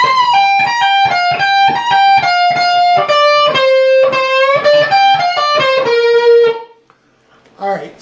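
Distorted electric guitar playing a solo measure, with sustained bent notes and picked runs, loud and alone, ending on a held note that fades out.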